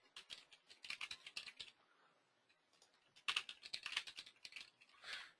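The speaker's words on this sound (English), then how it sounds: "type in the details of the referral" Keys are tapped on a computer keyboard while referral details are entered into an online form, coming as quick irregular bursts of clicks with short pauses between them, close and fairly quiet.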